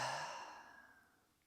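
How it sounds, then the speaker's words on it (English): A single deep exhale through the mouth during a guided meditation, a soft breathy whoosh that starts strongest and fades smoothly away over about a second and a half, close and quiet. "This time exhale through your mouth."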